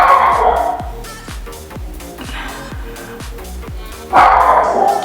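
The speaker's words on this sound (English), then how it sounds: "Oh, he's gonna keep barking." A dog barks repeatedly at someone at the door, a series of sharp, fairly close barks with short yips in a regular rhythm.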